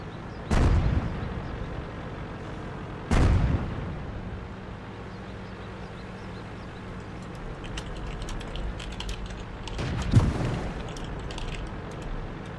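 Tank cannons fire in World of Tanks, with two sharp, heavy booms early on and a third blast later, each followed by a rumbling decay over steady low engine drone.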